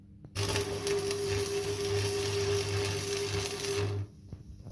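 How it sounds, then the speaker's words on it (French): A welder joins a bracket carrying a sensor for a rally car's trip meter, giving one steady crackling buzz with an even electrical hum that runs close up for about four seconds and then stops abruptly. "Bon, soudure alors."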